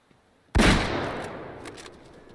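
Single rifle shot at a caribou in the hunting game Way of the Hunter, a sharp loud crack after quiet, followed by a long rolling echo that fades out; no talk.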